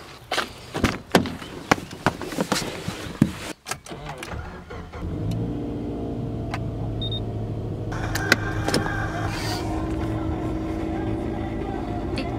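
A car starts up with door and clunking sounds at first, then settles into a steady engine drone as it drives off, running continuously up close with no talking.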